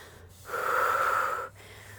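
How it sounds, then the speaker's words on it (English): A single long, breathy exhale lasting about a second during a Pilates lunge-and-sweep exercise, close and clear against a quiet room. "Inhale, exhale, inhale, exhale."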